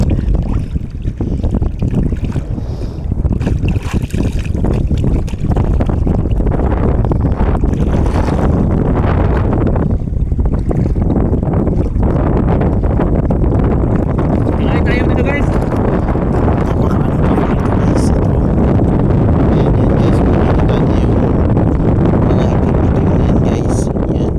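Strong wind buffets the microphone while rough sea waves slap and rush against a small boat out at sea, a loud, continuous roar throughout, with people talking now and then over it.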